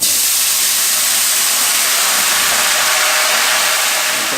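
Hot pan hissing and sizzling steadily as alcohol deglazes the browned venison bits stuck to its bottom, a loud continuous broadband sizzle with no voices.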